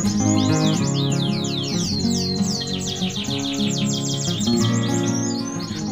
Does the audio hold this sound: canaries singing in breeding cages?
yes